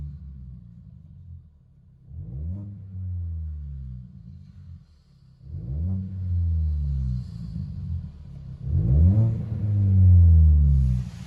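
Deep, boomy exhaust drone from inside a 2006 Mini Cooper 1.5L with a DTM muffler, rising in three revving surges with a muffled low rumble between them.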